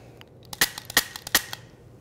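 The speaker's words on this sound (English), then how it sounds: "Start by laying down some covering fire." Gunshots from a handgun drill laying down covering fire while moving between cover: three sharp, loud cracks about a third of a second apart, each trailed by quieter snaps and echoes, with no talking.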